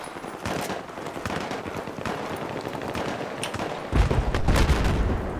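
Steady distant and mid-range gunfire crackles through a conquest match in the video game Battlefield 3, with scattered shots building into a louder, closer burst of automatic fire near the end.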